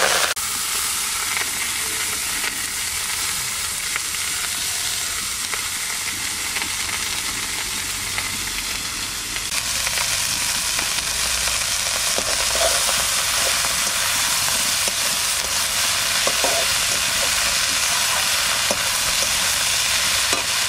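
Leafy greens and garlic fry loudly in a pan with a steady close sizzle and hiss, stirring scrapes throughout, and the frying grows a little stronger halfway through; no one speaks.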